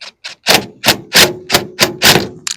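A cordless Phillips drill drives a stainless steel screw into a pontoon boat railing, giving six or seven loud, close bursts in a steady stop-start rhythm. Each burst has a gritty whir, and a couple of softer short taps come first.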